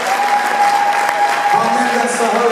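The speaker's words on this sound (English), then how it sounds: "Give a round of applause" Audience applause fills a theatre during a rock concert, a steady wash of clapping with a sustained tone ringing underneath.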